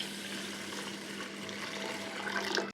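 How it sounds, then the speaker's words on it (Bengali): Water runs and splashes softly while lightly fried mung dal is washed, a faint, steady, continuous trickle with a few small splashes near the end. "এবার পানি দিয়ে ধুয়ে নেব।"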